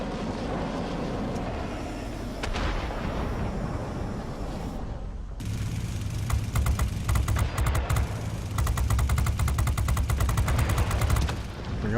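Gunfire in a flight-combat video game: a jet engine drone gives way to rapid bursts of machine-gun fire from a bomber's tail gunner aimed at an F-94D Starfire, loud and close, rattling in dense repeated volleys with no talk.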